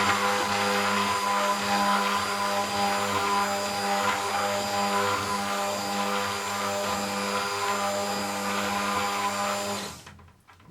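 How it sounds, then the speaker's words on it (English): A blender runs steadily while soap is being mixed, a loud continuous motor whine with a strong hum that holds for about ten seconds before cutting off abruptly near the end. "you just turn the blender on every now and then."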